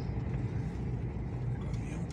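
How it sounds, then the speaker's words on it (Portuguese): A heavy truck passes on the BR-101 highway near a speed bump, a low, steady rumble of road noise and engine drone at moderate distance, fairly faint and even throughout. "Caminhão pesado"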